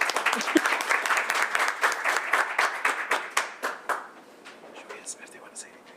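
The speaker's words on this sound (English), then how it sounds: "Now you can clap." An audience claps at a board meeting, a burst of many hands that runs strong for several seconds, then dwindles into a few scattered claps with faint murmuring and quiet voices.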